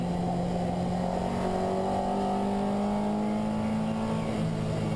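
A car engine drones steadily and loudly from inside the cabin during a lap of the Nürburgring Nordschleife, its pitch climbing slowly as the car accelerates under constant throttle.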